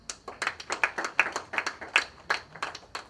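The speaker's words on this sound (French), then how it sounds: "si vous applaudissez" A short burst of hand clapping from a small audience at an African writers' day celebration, quick uneven claps close by, with no talking.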